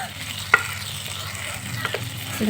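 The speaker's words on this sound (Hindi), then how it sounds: "1 से 2 मिनट मसाला के साथ फ्राई कर लेना" Water chestnuts with potatoes frying in spiced masala for a Bhojpuri-style sabzi: soft continuous sizzle with a sharp spoon scrape against the pan, then a few more scraping stirs near the end, close and moderately quiet.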